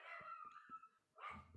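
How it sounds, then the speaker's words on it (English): A pet dog barks several times in short sharp bursts indoors, the yaps fairly close and loud, with a brief pause before a final cluster of barks. "sorry about my dog"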